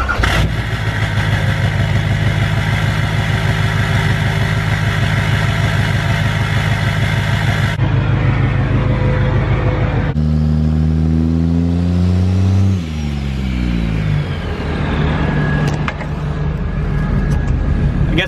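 Duramax diesel pickup truck on the road, engine droning loud and close throughout with clear revving and gear-shift pitch swings partway through, then settling back into a steady rumble.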